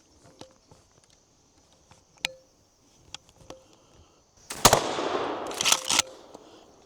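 Remington 870 pump shotgun fired at a target 15 yards away: faint scattered clicks and taps, then two loud, sharp blasts about a second apart, each with a short ringing decay.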